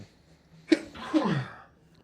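A single quick sneeze, fairly close in a quiet room, with a short breathy trailing sound after it.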